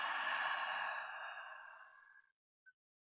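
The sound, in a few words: deep inhale and long exhale during yoga breathing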